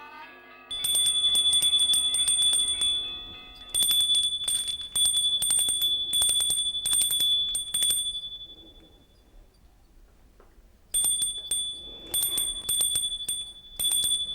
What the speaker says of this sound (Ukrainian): Цей дзвоник мені нагадує дитинство.